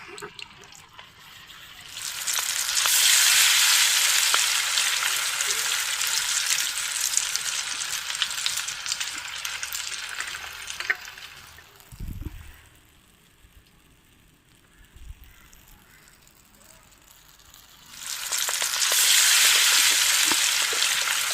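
Traditional homemade snack dough fries in hot oil, making loud hissing bubbling in two long stretches with a quieter gap and a brief knock between them, and no talking.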